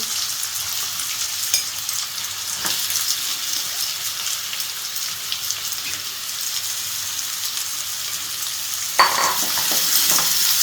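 Chopped onions fry with fennel seeds in hot oil for a Tamil prawn masala, giving a steady, even sizzle throughout with a brief stirring scrape near the end and no talking.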